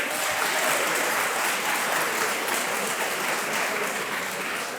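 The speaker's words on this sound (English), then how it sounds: "A round of applause as we get this photo." A crowd at an award ceremony in Eldoret claps steadily and warmly throughout, a dense continuous patter of applause from a room full of people.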